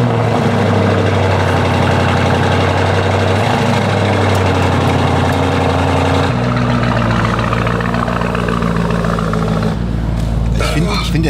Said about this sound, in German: Ich finde, der läuft noch schiffsdieseliger als sonst.